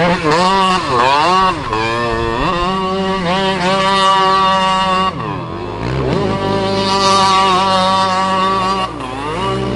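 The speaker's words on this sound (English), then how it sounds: "shift your cart, Justin's quad, donuts, see what happens." A quad bike engine revs hard while doing donuts in summer, the loud, close, continuous whine rising and falling repeatedly as the throttle opens and eases, with no voices.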